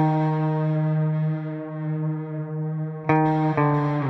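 A sustained, heavily distorted electric guitar note through a Source Audio Ventris reverb pedal drones with a thick reverb wash, then is struck again twice near the end.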